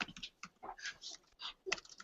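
Quiet, irregular tapping of keys on a computer keyboard, in short bursts of clicks.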